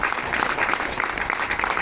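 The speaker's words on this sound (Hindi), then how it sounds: "जोरदार ताली बना के उत्साह वर्धन" Audience at a talk on language and culture claps steadily, a brief dense burst of applause filling the moment.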